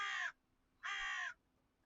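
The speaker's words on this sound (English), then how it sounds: "Bird's just landed on my windowsill. Noisy." A crow perched on a windowsill gives two loud, drawn-out harsh caws close by, each lasting about a third of a second and separated by a short quiet pause.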